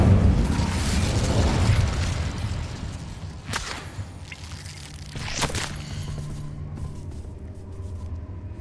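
An Incendio fire spell cast in Hogwarts Legacy: a sustained roaring whoosh of flame that fades, then two sharp bursts a couple of seconds apart, with a low rumble underneath.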